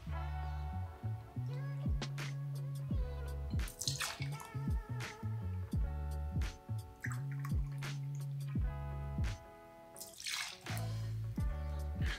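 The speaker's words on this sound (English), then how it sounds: "we're gonna start by pouring 2 ounces of cognac into a cocktail shaker" Cognac poured into two cocktail shakers, one after the other, a close gurgling and trickling liquid stream with splashy, dripping bursts and brief pauses between pours.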